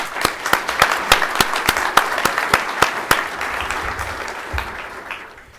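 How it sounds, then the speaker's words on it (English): An audience at the opening ceremony of a space exploration conference breaks into applause, a dense burst of claps that starts strong, holds for several seconds and gradually thins out and fades. "A round of applause for everybody."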